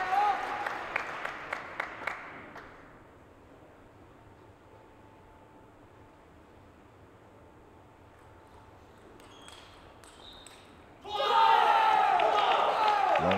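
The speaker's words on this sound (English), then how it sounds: "The crowd is behind MOREGARD, make no mistake about that." A crowd at the 2017 World Junior Table Tennis Championships junior boys' singles final gives a brief burst of clapping, then settles into a quiet hall before a loud roar of cheering and applause rises near the end, with commentators talking throughout.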